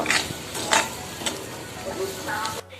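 Tomatoes fry in a pan for a home-cooked chicken curry, giving a steady close sizzle with occasional stirring scrapes and utensil clinks before it cuts off abruptly.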